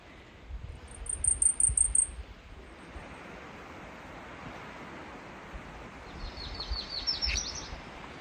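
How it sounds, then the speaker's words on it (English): Songbirds on a Maine mountain trail, including dark-eyed junco, yellow-rumped warbler and blackpoll warbler: a rapid high trill early on, then a later quick rising series of thin chirps over soft outdoor hiss. "There's a dark-eyed junco, a yellow-rumped warbler, and a blackpoll warbler."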